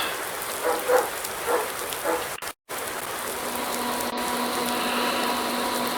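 Rain falls steadily in Farming Simulator 19, a constant soft hiss of drops on surfaces with a few faint taps, moderately quiet and continuous.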